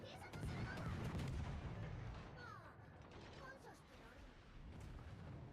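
Battleship guns fire during a naval battle in a video game, with the Iowa among the ships: heavy rumbling blasts and creaking mechanical noise roll through a dense, low, fairly constant wash of combat sound.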